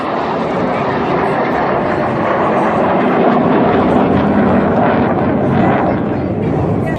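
Red Arrows jets thunder past at the Herne Bay airshow, a loud, continuous broadband jet roar that swells and lingers close by, with a commentator talking underneath.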